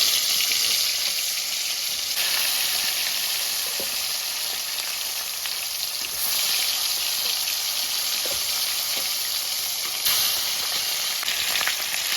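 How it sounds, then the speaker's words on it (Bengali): Fish fry in hot mustard oil with a steady, loud, bright sizzle and crackle, plus occasional faint utensil clicks and no talk. "এখন আমি এই তেলে মাছগুলোকে ভেজে নেব"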